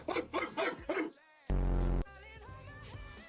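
A dog gives a quick run of three or four sharp, loud barks up close, followed by a mix of other sharp noises and a burst of tonal sound.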